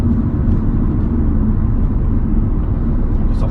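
Steady, heavy truck engine rumble from a driving-test vehicle, continuous and loud throughout with no clear breaks, a low droning roar filling the whole stretch.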